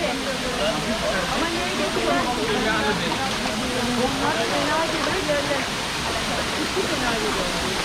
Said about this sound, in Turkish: sizi yaklaşık 15-20 metreden dökülen muhteşem şelale karşılıyor